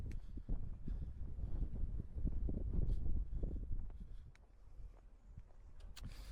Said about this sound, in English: Hope you can hear something because it is a bit windy.